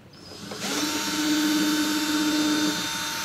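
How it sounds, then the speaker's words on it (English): A power drill whirs up and runs steadily at high speed, close and loud, boring into a guitar neck for a few seconds. "And I'm gonna drill."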